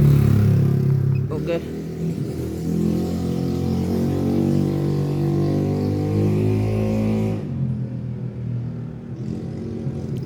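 A Yamaha All New NMAX scooter, with a fault that makes it stall, runs with a steady low engine drone and a brief rev near the start, then cuts out abruptly near the end; someone speaks briefly.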